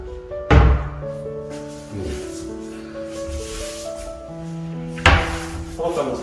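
Metal kitchen cabinet drawers in a new apartment's sink unit thud open and shut, two sharp knocks a few seconds apart ringing with a metallic resonance while people talk nearby.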